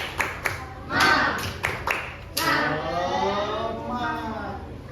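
Indonesian classroom students doing a rhythmic spirit clap during a teaching practice lesson, with sharp, close group claps in short bursts and a voice talking between and over them.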